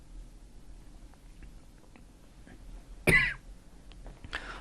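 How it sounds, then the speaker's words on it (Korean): A single sharp cough bursts out at a lecturer's desk during a quiet tax-accounting lecture, loud and close against a low hum, followed a moment later by a softer throat-clearing rasp. "제가 기침이 잠깐 나와서"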